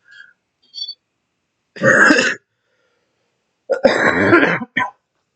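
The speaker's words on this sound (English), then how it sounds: "my cough is still a little bad" Two separate bursts of harsh coughing, close to the microphone, with short quiet gaps and small throat sounds between them.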